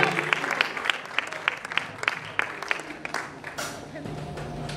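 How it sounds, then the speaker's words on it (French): Audience applause at a gospel concert, distinct rhythmic claps mixed with crowd noise and some cheering, with voices under the clapping. "On accompagne Samuel par nos acclamations, s'il vous plaît."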